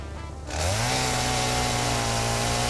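A chainsaw in the game Satisfactory revs up sharply and then holds a loud, steady buzzing whine alone.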